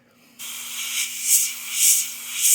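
An airbrush sprays paint freehand onto Bristol board to paint fur, starting abruptly as a close, steady airy hiss that swells in a few gentle pulses.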